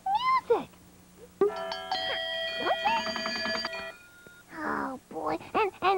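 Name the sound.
bells ringing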